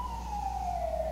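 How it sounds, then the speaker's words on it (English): A wailing emergency siren sweeps steadily downward in pitch on a city street in Washington, continuous and moderately distant throughout, with low traffic rumble beneath. "that siren is going on in the background in the streets in Washington"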